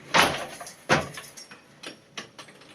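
A treadle pressed on a weaving loom while reversing a twill: two firm wooden knocks close together, then three softer clacks spaced out, close by with no voices.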